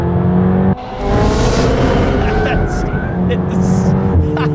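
A McLaren 720S in track mode pulls flat out in second gear: a loud, close engine roar that briefly dips, then climbs steadily in pitch with rising revs and faint tire noise.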